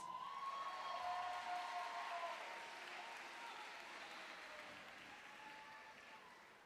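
At a university scholarship competition, the audience stands to applaud faculty and staff with a soft, distant wash of clapping, joined by faint cheers and a whoop, slowly tapering off.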